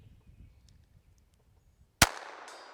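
A single sharp crack from a small High Standard .22 Derringer fired at a distant 100-yard target outdoors, sudden and loud after near-silence, with a short echo trailing off.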